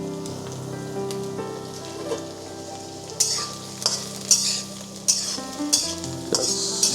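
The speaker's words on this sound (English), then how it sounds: "Just stir it for a few minutes." Onion and okra sizzle steadily in a pan. After a quieter start, the stirring grows busier and brings repeated sharp scrapes and bright crackling bursts.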